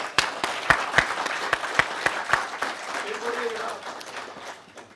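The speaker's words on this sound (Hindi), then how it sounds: "भाई दाद जरा भरपूर होनी चाहिए तालियों के साथ।" Scattered audience applause with sharp individual claps standing out, fading over a few seconds while a voice speaks briefly under it.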